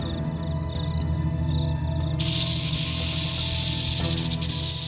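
A rattlesnake's sustained dry buzzing rattle, steady and close, with an abrupt brighter surge partway through over a low droning background.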